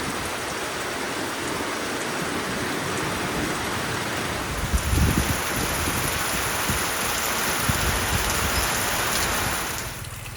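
Steady rain pours outside a resort in Munnar, Kerala. It makes a dense, even hiss all the way through, close and fairly loud, with a few heavier splashes partway along and no voices.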